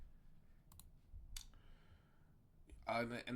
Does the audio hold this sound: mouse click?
yes